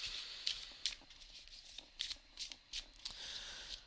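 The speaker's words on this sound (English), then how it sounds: "I'm going to shuffle up again." Tarot cards being shuffled up close, a series of quick riffling bursts and soft flicks with brief pauses between them, no voices.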